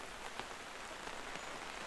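Steady rain falls in the Farmer's Dynasty farming video game, a constant even hiss of drops on surfaces with a few faint taps, no talking.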